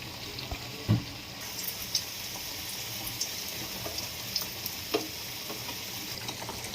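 Bread pieces frying in ghee while sugar syrup is prepared for a sweet dessert, giving a steady, moderate sizzle throughout with a few soft clinks and bumps from stirring.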